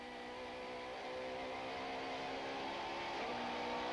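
Super touring race cars at Killarney circuit in 1995 roar continuously at mid distance, engines holding a steady high drone with a slight rise in pitch near the end, no voices.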